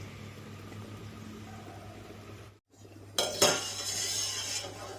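A ladle scrapes and clinks against a pot as one litre of milk is stirred while it comes to the boil for homemade curd, soft metallic strokes close by over a low steady hum, with no talk.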